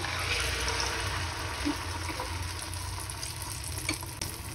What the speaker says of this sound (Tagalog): medyo mainit na po ang ating mantika. Ilagay na po natin ang ating tortang talong.